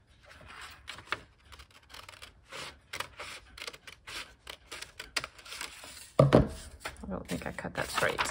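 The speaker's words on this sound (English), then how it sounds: "We need to cut right under this E." Scissors or a blade cut through binder journal material for a cookbook binder, giving repeated close snipping and rubbing scrapes, with a louder burst near the end.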